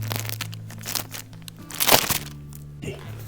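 Freshly baked baguette crust crackling as the loaves cool, a series of small dry crackles and crunches with one louder burst, close and fairly faint.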